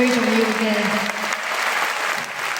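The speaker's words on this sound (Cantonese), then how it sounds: "大家可唔可以最熱烈嘅掌聲多謝佢哋" A large concert crowd at Hong Kong Coliseum applauds the crew at a show, dense sustained clapping with a voice briefly audible at the start.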